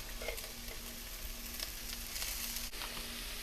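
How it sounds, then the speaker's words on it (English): Onion, garlic, peppers and corn sauté in a pan with a steady, faint sizzle and light crackle, no voices. "The onion and garlic and peppers have been sauteing for about a minute or so."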